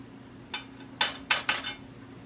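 Ackee tossed into a pan with fish, a few separate clinks and clattering bursts of pan and utensil contact, fairly close and moderate in loudness, with no talking.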